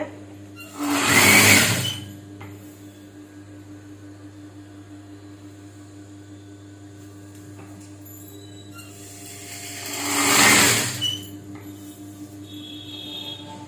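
Sewing machine stitching a saree border, with two separate bursts of fast whirring stitching over a quiet, steady hum between them.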